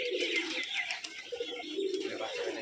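Giribaz pigeons at a pigeon farm in Rajshahi keep up a steady stream of soft, overlapping coos and chirps at moderate loudness, with no talk over them.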